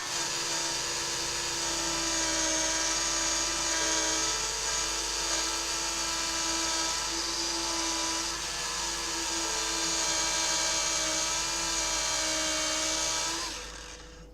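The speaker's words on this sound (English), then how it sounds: "this is a polisher and it does do the job very well" Electric polisher working on an Amstrad CPC 464 computer casing during restoration, a steady high-pitched whine that runs for about fourteen seconds and then winds down, close and loud.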